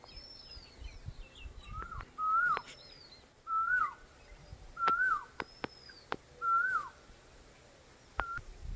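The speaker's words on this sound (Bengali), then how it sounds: "কোকিল কিন্তু এখনো ডাকছে" An Asian koel calls outdoors in bright daylight, a clear whistled note repeated four times at even intervals, with other birds whistling faintly in the background and a few sharp knocks nearby.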